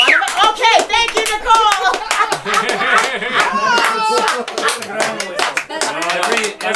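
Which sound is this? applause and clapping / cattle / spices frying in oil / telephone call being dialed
applause and clapping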